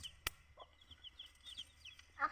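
Chickens with young chicks give soft, faint clucks and thin, high peeping calls in a quiet, close setting, with one sharp knock near the start.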